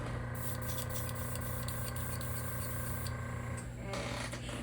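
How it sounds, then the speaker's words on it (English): A paint spray gun hisses continuously up close while coating a 3.5 inch wake rat fishing bait, a steady airy spray over a constant mechanical hum. "I'll just spray right over top this whole bait"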